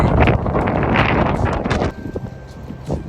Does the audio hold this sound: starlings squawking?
no